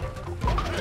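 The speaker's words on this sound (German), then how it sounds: "Vorsicht vor dem Tukan hier." A short cooing bird call from a toucan enemy in the video game Donkey Kong Country: Tropical Freeze, one brief hollow coo over a dense, full background of game music and effects.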